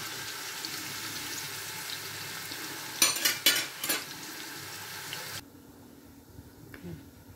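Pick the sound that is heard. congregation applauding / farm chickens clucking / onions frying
onions frying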